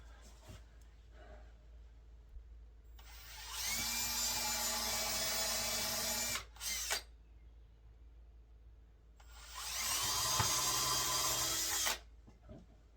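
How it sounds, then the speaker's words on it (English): A power drill whirs in two bursts of several seconds each, pre-drilling holes in 1x4 wood boards, with quiet pauses between and before. "Now I like to pre-drill the holes with these 1x4s so that I don't crack them out."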